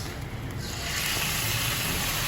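Döner meat frying on a street-food grill gives a loud, continuous sizzle and hiss that swells slightly and holds steady throughout.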